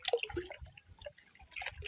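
Water drips in a rural provincial bathing area, a few faint, sparse drops falling in a quiet space with soft background noise.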